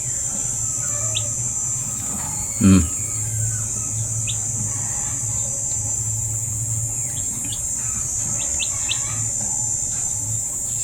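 Baby chicks drinking vitamin water chirp in thin, high peeps scattered over a steady background hum, with one louder squawk-like burst near the start.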